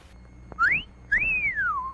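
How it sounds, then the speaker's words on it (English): Two appreciative human whistles, a short rising one followed by a longer rise-and-fall wolf-whistle, sound clearly and close over a faint background, part of a vintage movie-theater concession stand advertisement. "the hot dogs at our concession stand do rate an appreciative whistle"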